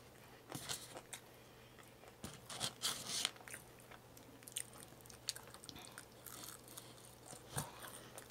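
Someone bites and chews a crispy hash brown up close, with sharp irregular crunches scattered across several seconds between quieter moments of chewing.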